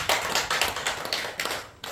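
A church congregation claps during a Sunday afternoon service, making a quick run of sharp, overlapping claps over about two seconds at moderate loudness, with no clear speech.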